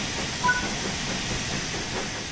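Steam hiss and a steady mechanical rumble from an LMS Fowler Class 4F steam locomotive picking up speed in the train simulator game Train Sim World 3 on the Peak Forest Railway, continuous and moderately loud, with no talking.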